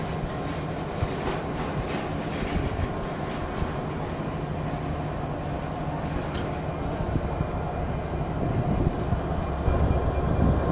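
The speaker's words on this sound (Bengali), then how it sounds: "এটা হচ্ছে আমাদের আজকের ট্রেনের লোকোমোটিভ, যার সিরিয়াল নাম্বার 6332" The Chitra Express, hauled by locomotive 6332, rumbles past at night with continuous rail roar, scattered wheel clicks and faint squeals, steady and fairly close, rising slightly near the end.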